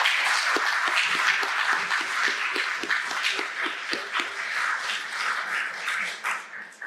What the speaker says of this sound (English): I think another round of applause would be warranted